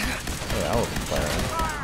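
Fallout 4 combat gunfire against synths: dense, continuous crackling rattle of shots and impacts filling the whole span, loud and steady, with a voice faintly mixed in.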